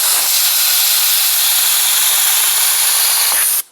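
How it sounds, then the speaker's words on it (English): Compressed air blasts into a Tesla turbine as a loud, steady broadband hiss, holding constant for several seconds before cutting off abruptly at the end. "we're going to shoot some compressed air in there and get it moving"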